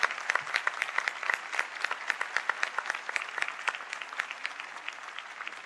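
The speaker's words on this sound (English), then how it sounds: "Let's give them another round of applause" An audience at a school district board meeting claps, a steady round of applause of many hands, moderately close, slowly thinning toward the end.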